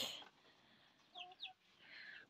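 Chickens clucking in a village, a few short, fairly quiet clucks and calls in two brief bursts against a soft outdoor background with no talking.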